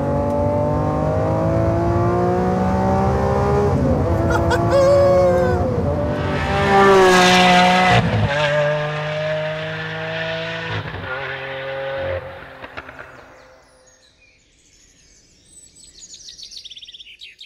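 A Lamborghini Aventador S with its upgraded V12 accelerating hard, a loud, rising engine roar climbing through gears for about twelve seconds before cutting back, then fading to a quieter rumble.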